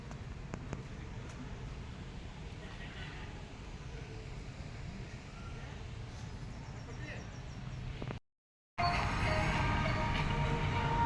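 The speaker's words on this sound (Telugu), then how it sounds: "ఇది కిడ్స్ కోసం అండి, మినీ ట్రైన్." A kids' mini train rolls along at an amusement park, giving a faint, steady mechanical rumble against distant outdoor crowd noise. It cuts out briefly, then returns louder.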